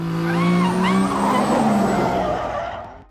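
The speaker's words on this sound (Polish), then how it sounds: "Max Verstappen dał popis wyjścia z tank slappera, który dał mu okazję do przyjemnego popisu driftingu podczas GP Brazylii w 2014 roku" A Formula 1 car skids and drifts at the 2014 Brazilian Grand Prix, its tires squealing loudly over the engine scream, close at first and then fading away.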